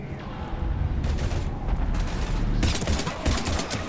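Heavy, sustained gunfire in Mass Effect 3 combat against husks, with dense bursts of automatic weapon fire and blasts layered over a rumbling battle din, close and loud throughout.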